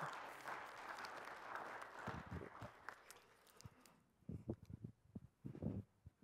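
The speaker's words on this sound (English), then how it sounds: "give him a round of applause" A lecture audience claps for about four seconds, fairly faint, then the applause fades into scattered footsteps and shuffling noises.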